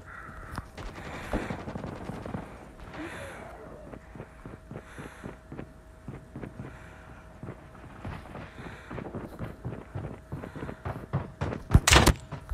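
Gunfire in Call of Duty Mobile on the NukeTown multiplayer map, a string of sharp single shots and short bursts at irregular intervals, with a loud close blast near the end.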